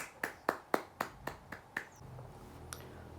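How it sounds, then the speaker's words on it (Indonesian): Seven sharp hand claps in a steady, even rhythm in a classroom during a micro-teaching social studies lesson, then faint room noise. "Berikan tepuk tangan untuk teman kalian."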